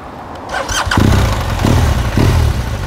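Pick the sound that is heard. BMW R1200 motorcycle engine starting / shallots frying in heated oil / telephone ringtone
BMW R1200 motorcycle engine starting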